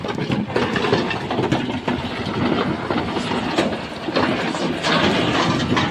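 Tractors carrying stones run with a steady, loud, rumbling engine drone and rattling, continuous and close, with no talk.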